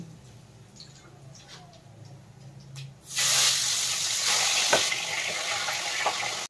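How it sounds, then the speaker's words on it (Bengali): Fish frying in hot oil in a kadai for a Bengali dish: a few seconds of quiet kitchen background, then a sudden loud, steady sizzle and crackle that continues close by. "একইভাবে সব মাছগুলো ভেজে নেব।"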